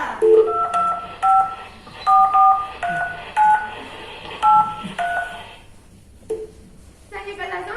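A mobile phone is dialed on a theatre stage, its keypad tones beeping in quick irregular bursts of one to three, loud and close, with some stage noise between them.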